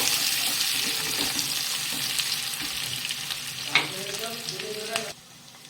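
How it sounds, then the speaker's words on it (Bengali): Sliced onions fry in a pan with goat meat, giving a loud, continuous sizzle close up. Occasional stirring scrapes and clinks break through before the sizzle abruptly drops away at the end. "এবার আমি পেঁয়াজ দিয়ে দিচ্ছি এর মধ্যে। পেঁয়াজ ভালো করে ভেজে নেব।"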